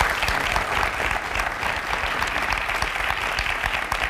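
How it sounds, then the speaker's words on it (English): Studio audience at a televised Massachusetts gubernatorial debate applauds steadily, a dense, even wash of clapping from many hands sustained throughout without a break. "we'd like to take a minute to give Charlie Baker and Jay Gonzalez a hand right now"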